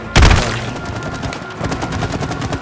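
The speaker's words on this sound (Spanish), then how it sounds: "Había que dispararle al panel" Rapid bursts of gunfire ring out in the game It Takes Two, a loud opening blast followed by a dense stream of repeated shots, close and continuous.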